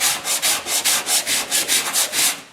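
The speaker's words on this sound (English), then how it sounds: "I'm going to use an 80 grit." Coarse 80-grit sandpaper scrubs over a small welded rust repair area on car bodywork in quick, rhythmic back-and-forth strokes, about a dozen passes, loud and close.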